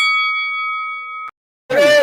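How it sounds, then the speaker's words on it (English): A single bell strikes and rings out in a clear sustained tone, then cuts off abruptly into a brief silence before a voice begins speaking. "That bell means answer the 3 questions."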